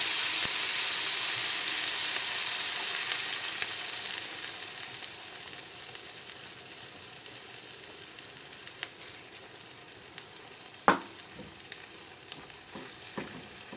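Whisked egg frying in a pan with cherry tomatoes gives a steady sizzle that is strongest at first and slowly fades, with a few sharp pops and clicks near the end.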